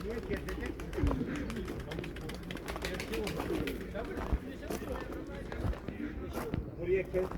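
Pigeons coo and flutter close by at the Ostim bird park in Ankara amid busy outdoor activity, with footsteps and people talking in the background.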